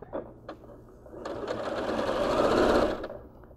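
A sewing machine stitches a rolled hem on a dress, with a few short clicks and bursts before the motor runs in a steady, close whir that swells and then stops.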